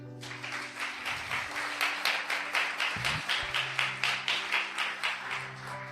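A church congregation claps hard and steadily in a fast, even rhythm of loud, close handclaps, carried over a sustained background tone.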